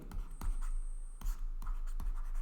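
Chalk or marker tapping and scratching on a board during a lecture, sounding as a handful of sharp close taps with short scraping strokes in an irregular rhythm, heard alone in a quiet room.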